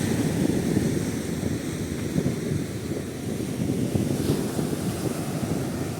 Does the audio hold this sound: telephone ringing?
no